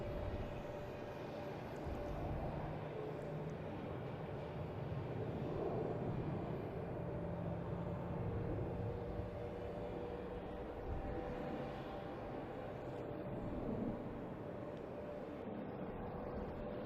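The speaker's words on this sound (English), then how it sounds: "So we got a JetBlue taking off to Phoenix. Airbus 321." A JetBlue Airbus A321 takes off at dusk, heading to Phoenix. A faint, distant jet roar rumbles steadily throughout and swells a little in the middle, with no voices.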